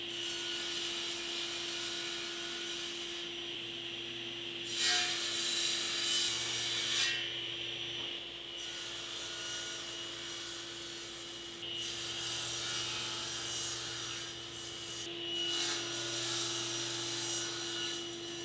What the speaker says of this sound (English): I'm going to cut one end nice and square